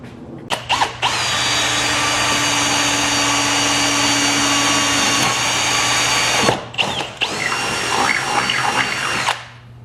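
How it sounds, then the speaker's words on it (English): Power drill boring holes into honeycomb carbon fibre winglets, two long loud whining runs close by, the first steady for several seconds, the second after a short stop, with brief starts and stops. "us drilling into your fresh carbon"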